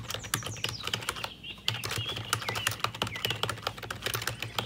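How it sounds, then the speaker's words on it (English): Rapid keyboard typing during a TT Rockstars times-tables game: fast, irregular clicks of keys pressed close to the microphone, continuing steadily over a low background hum with no talking. "sometimes you need to be really careful about what you're typing"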